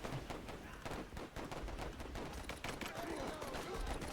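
Dense gunfire and mortar blasts rattle continuously through a trench battle in the WARFARE Legacy game, a busy, fairly quiet crackle of shots with dull thumps mixed in and no gaps.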